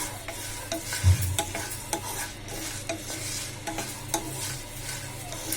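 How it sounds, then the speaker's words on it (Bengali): Dried red chillies fry in hot oil with panch phoron for a sour-spicy mango pickle, giving a steady close sizzle broken by repeated scraping stirs of a spoon in the pan. "এবার কিছু শুকনা মরিচ ভেজে নিচ্ছি।"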